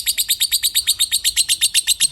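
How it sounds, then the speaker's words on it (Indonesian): A lovebird sings a rapid, regular series of about sixteen sharp, high chirps, close and loud, repeating evenly with no talking. "Ini burung."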